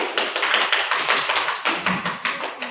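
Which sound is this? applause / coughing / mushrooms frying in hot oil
applause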